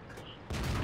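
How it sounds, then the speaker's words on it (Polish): A second cannon shot from an STB-1 tank in World of Tanks on the Pearl River map, a sudden loud broadband boom cutting in halfway through and sustaining over the game's background rumble. "Drugi strzał."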